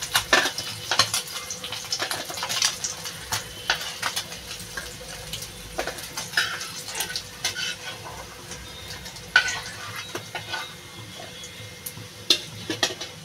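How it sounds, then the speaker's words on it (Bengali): Puti fish frying in a pan: a constant oily sizzle broken by repeated scraping and clinking as a spatula stirs and turns the fish, close and fairly loud with no talking. "বন্ধুরা আমার মাছ ভাজাটা হয়ে গেছে, প্রায় নামিয়ে নেব মাছ ভাজাটাও।"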